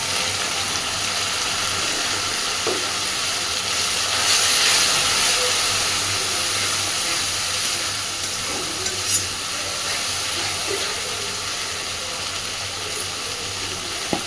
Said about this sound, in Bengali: মশলার বাটিটা ধুয়ে অল্প একটু জল দিচ্ছি যাতে মশলাটা পুড়ে না যায়।